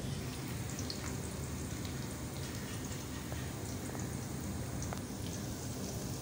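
Onions frying in a pan until brown for a dhaba-style tori dal, a steady dense sizzle and crackle with scattered small pops, continuous and even throughout without any talking.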